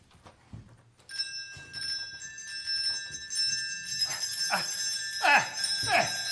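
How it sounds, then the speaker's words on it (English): Many house bells ring together as a staged theatre sound effect in a Christmas Carol play, a bright continuous jangle that builds and swells over several seconds with low stage noise beneath. "Every bell in the house must be ringing."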